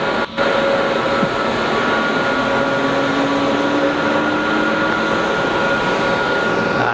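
An Airbus A220 jet at Geneva Airport gives a loud, sustained engine roar with a steady whining tone. It holds at constant strength for the whole stretch after a brief dip at the start.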